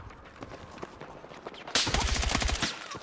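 Sniper and other gunfire in Battlefield 6 combat: quiet ambience, then a sudden loud burst of rapid repeated shots with sharp cracks filling the last half, no talk.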